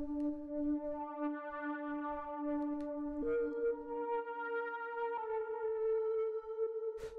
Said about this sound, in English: the first sound that we have here is the pad,